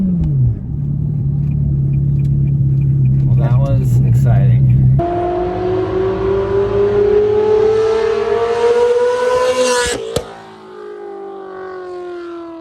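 A Ferrari 360 Modena with a gated manual gearbox is driven hard, its engine note climbing loudly through the revs with clear breaks at gear changes. Voices are heard in the cabin.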